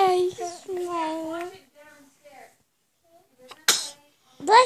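A small child sneezes sharply once near the end, after a stretch of playful adult talk and babble and a quiet pause, with another short burst right at the close.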